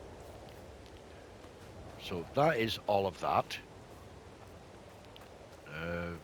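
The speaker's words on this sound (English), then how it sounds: "Not much we can do today with all this rain going on" Steady rain hiss from a farming video game runs throughout, with someone talking briefly over it in the middle and near the end.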